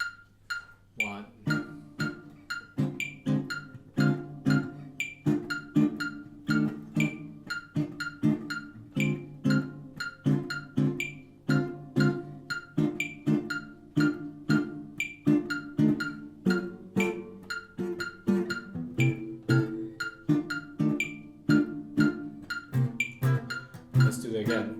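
Chordal comping on a blues in F, the chords landing off the downbeat starting on beat 2, played as short, evenly spaced stabs that repeat in a steady rhythmic pattern throughout.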